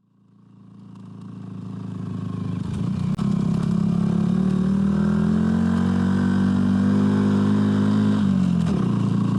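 A motorcycle engine builds from quiet to a steady, loud drone as the bike rides along, with a brief clatter midway.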